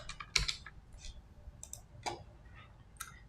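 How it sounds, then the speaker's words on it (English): A stock name is typed on a computer keyboard: a short run of quiet, irregular key clicks, close but faint, with no talk. "Let me type Poonawalla."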